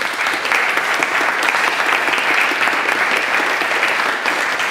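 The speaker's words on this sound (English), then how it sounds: "So, quick round of applause for everyone," Sustained audience applause at a 50th-anniversary celebration event, dense and steady with no breaks, loud and close throughout.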